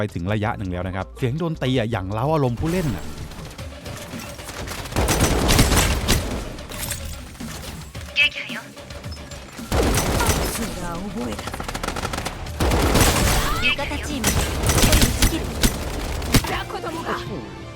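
Automatic gunfire bursts in the shooter Strinova, loud, repeated volleys of rapid shots spread through the match, with a voice talking over much of it.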